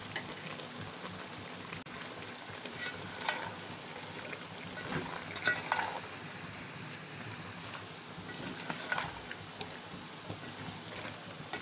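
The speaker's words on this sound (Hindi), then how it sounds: "1 कप हमने इसमें घी ऐड किया और फ्राई करने के लिए इसको रख दिया है" Onions and chicken frying in a cup of ghee for chicken karela and aloo curry: a quiet, steady crackle and sizzle with scattered pops and spits, heard alone.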